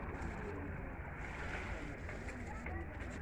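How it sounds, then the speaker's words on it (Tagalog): Sea waves at Astira, Greece, a steady broad wash of surf and water noise, continuous and fairly loud throughout with light wind and faint distant voices underneath. "Tapos ito na yung dagat."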